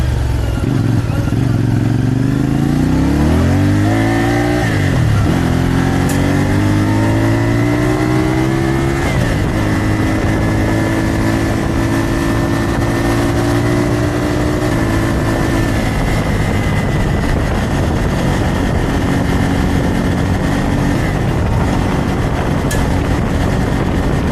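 A CF Moto 450MT motorcycle is revved hard through its exhaust, its pitch climbing and falling over a few throttle blips before holding a loud, steady drone, heard close.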